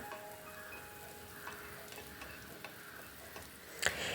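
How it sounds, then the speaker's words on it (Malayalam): Mustard seeds, shallots, dried chillies and curry leaves fry in oil for tempering, giving a faint, steady sizzle broken by small ticking pops, with a brighter crackling burst near the end. "നമ്മൾ കടുക് വറക്കാനായി 3 കൊച്ചുള്ളിയും 3 വറ്റൽമുളകും ലേശം കറിവേപ്പിലയുമാണ് എടുത്തേക്കുന്നത്"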